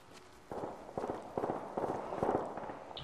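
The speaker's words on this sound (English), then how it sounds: "Shooting on the left" Gunfire in Apex Legends, played on PS4: a run of sharp, fairly distant shots comes in irregular bursts over steady game ambience, with no talking.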